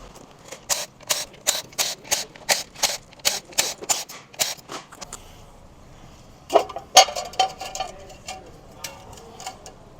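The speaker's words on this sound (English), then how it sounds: "we have to remove these bolts right here. There are 10mm bolts." Ratchet removing 10mm bolts on an Acura MDX engine: a quick run of evenly spaced light clicks, a pause, then a few sharper metallic clicks, close and quiet.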